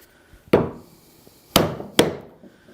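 A chisel is struck into wood three times with a mallet, sharp close knocks spaced unevenly, each ringing briefly before fading into quiet.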